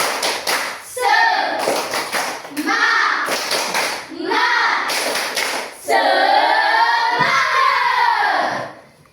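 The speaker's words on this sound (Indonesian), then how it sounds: "Oke, sekarang sama-sama. Tepuk semangat." Schoolchildren in a classroom clap together in a steady, rhythmic Indonesian clapping chant, with bursts of group clapping separated by short pauses and excited young voices throughout.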